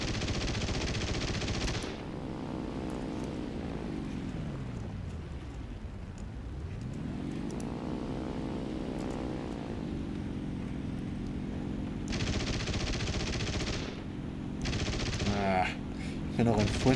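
Machine gun fire from an aircraft in the War Thunder combat game: rapid bursts of gunfire, strongest near the start and end, over a steady droning aircraft engine whose pitch dips and rises midway.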